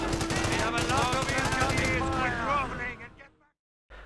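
Machine-gun fire in a video game: a dense, continuous stream of rapid shots with a ringing tone that stops after about three seconds, then goes quiet before a brief return. Voices are heard over the fire.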